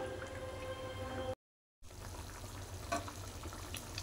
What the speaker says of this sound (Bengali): এবার মাছ দিয়ে আমি 5 মিনিট মতো ফুটিয়ে নেব।